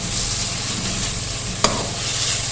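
Cumin seeds sauté in hot oil for kadhi pakora with a constant crackling sizzle, and a single sharp clink of a utensil lands partway through, with no talking.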